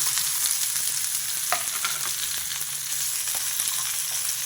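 Ridge gourd pieces fry in hot oil while being stirred, a steady close sizzle broken by scraping and light clicks from the spoon, with no talking.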